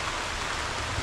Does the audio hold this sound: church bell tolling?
no